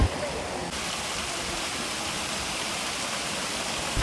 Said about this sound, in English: you'll be surrounded by sound of rushing water